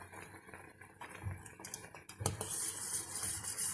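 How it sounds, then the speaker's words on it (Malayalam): A spoon clinks and scrapes in a bowl as dry ingredients for homemade dark chocolate are mixed, with close, irregular taps and knocks over a soft background hiss. "നമുക്കിത് നന്നായി ഒന്ന് മിക്സ് ചെയ്യാം."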